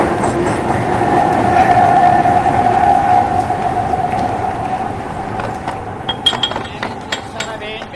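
A Kolkata metro train rolls toward Netaji Bhavan station with a steady rumbling clatter and a high whining tone that eases as it slows, ending in scattered clinks and clacks.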